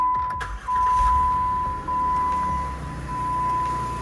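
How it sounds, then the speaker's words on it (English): A Jeep JK engine starts up and runs with a steady low rumble, brief dips early on, and a constant chime-like tone ringing over it, close by. "I'm gonna go crank up the engine and bleed some more coolant"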